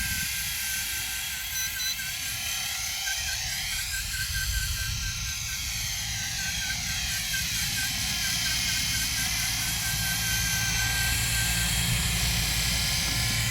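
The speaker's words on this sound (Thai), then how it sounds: "ผมจะกดสตาร์ทนะฮะ กดปุ๊บมันก็จะลอยขึ้นเลย ประมาณหัวเข่านะครับ" A small XK V915-A Lama 4-channel 2.4GHz RC scale helicopter spins up, lifts off and hovers, giving a steady high motor whine with a wavering rotor tone that stays close and fairly loud.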